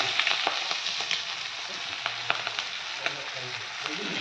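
Spinach frying in a pan of fish oil, a steady close crackling sizzle with scattered sharp pops and spits throughout, no voices.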